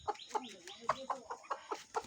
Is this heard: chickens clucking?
yes